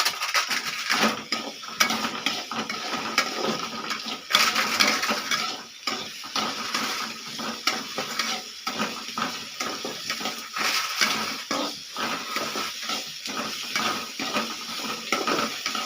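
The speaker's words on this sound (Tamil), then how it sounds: "உப்பு கொஞ்சமாக போட்டு வதக்கிக்கலாம். வெங்காயம் வதங்கட்டும்." Onions sautéing with salt in a pan, a steady soft sizzle with frequent scraping and clinking of a stirring utensil against the pan, close and continuous throughout.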